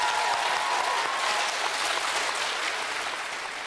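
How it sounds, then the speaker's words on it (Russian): Sustained applause from a studio audience at a music quiz game show, a dense steady wash of clapping that stays loud throughout and eases slightly toward the end, with no talking. "Мне мало аплодисментов в честь нашего участника."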